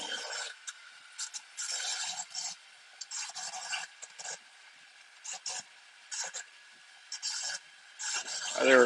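A dulling saw blade mills a dense wood log, giving repeated short rasping, scraping bursts separated by quiet gaps, fairly faint and close.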